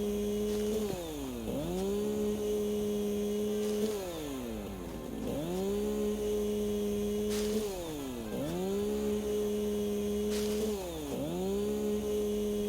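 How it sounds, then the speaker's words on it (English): Chainsaw in the video game Satisfactory cutting down plants, its engine revving loud and steady in repeated cycles, each rise holding high before dipping briefly, continuous throughout with no talk. "Alright, chainsaw, you've had your fun."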